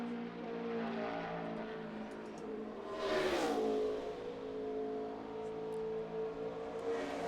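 A NASCAR stock car engine drones through a qualifying lap at Charlotte, swelling as it passes nearer mid-way and then fading back to a steady distant roar.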